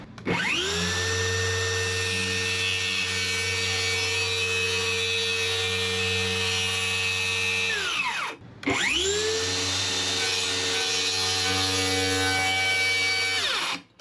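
Battery-powered saw cutting plywood on a yacht, two loud whining runs that each spin up to full speed and hold steady, the first about eight seconds long, with a short pause between them and no talk.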